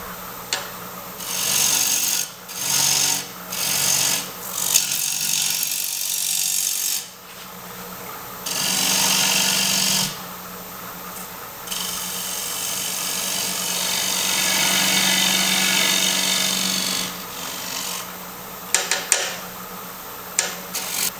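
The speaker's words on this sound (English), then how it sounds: "So I'm going to start with my bowl gouge. Make that area a little bit deeper." A bowl gouge cutting into a spinning wooden bowl on a lathe, giving a loud, sustained rasping hiss in long passes broken by brief pauses as the tool lifts off the wood.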